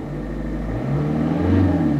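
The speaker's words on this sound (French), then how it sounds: "Si j'accélère un petit peu" A car engine at idle rises in pitch as it is revved up a little to about 2500 rpm, a low steady drone that swells toward the end.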